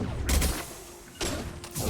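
Gunfire in a Mass Effect 2 firefight, two loud dense bursts of shots close by, separated by a brief lull with a low hum under it.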